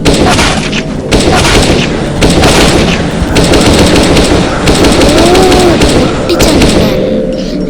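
Rapid, loud gunfire in a zombie video game, continuous automatic bursts with booms and brief pauses, close and dense throughout.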